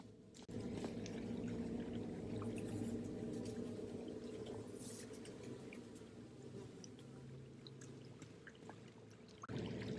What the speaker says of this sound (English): you hear the faintest sound of rushing water that seems to be coming from the farthest hole